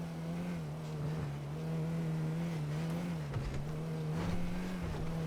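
A car engine in GTA 5 drones at a steady, loud hum with slight rises in pitch as the throttle is pressed, continuous and close throughout with no talk.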